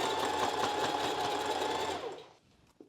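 A sewing machine stitches a short zigzag along a strapless bra, running loud and close at an even rapid rate for about two seconds, then stopping and leaving a faint click in near silence.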